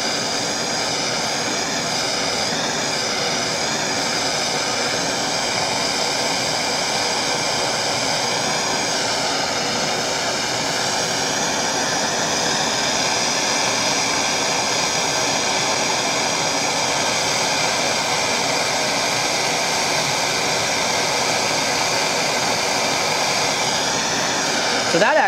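A brazing torch heating copper pipe, heard as a steady, loud roaring hiss that continues unbroken throughout, with no clear break or change.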